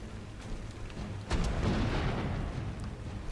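A cannon booms in ARK: Survival Ascended on a Scorched Earth map, with one loud blast settling into a sustained roaring rumble over steady background noise.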